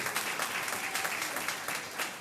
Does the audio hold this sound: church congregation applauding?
yes